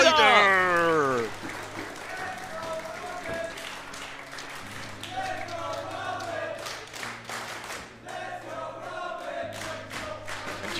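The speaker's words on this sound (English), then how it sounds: "you can hear the crowd chanting for Robin" A crowd at a Tetris championship claps and chants rhythmically for the players after a game-sound jingle, with a commentator's voice talking over the noise throughout.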